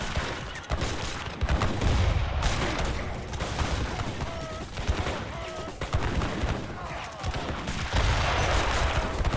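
Howitzers and massed musket fire in an Age of Empires III battle, dense volleys of gunshots and booming cannon hits rattling repeatedly and loudly for the whole stretch, with no pause.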